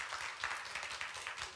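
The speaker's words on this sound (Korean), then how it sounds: "우리 민재 위에 축복하며 우리 박수 한번 주세요." A church congregation applauds together during a sermon, a soft, steady patter of many hands clapping at a moderate distance, heard alone without talk.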